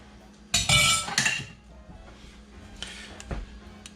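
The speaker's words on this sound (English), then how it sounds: "And then throw our meat back in." Meat dropped back into a pot of ropa vieja with marinade, a loud burst of clattering metal and utensil clinks up front, then a few scattered knocks and scrapes against the pot.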